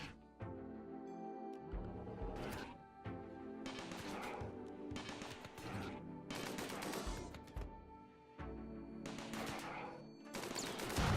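Gunfire rattles through a RimWorld colony's trap-filled kill box, with dense bursts of machine-gun and rifle shots that repeat in clusters, close and loud, and no talk over them.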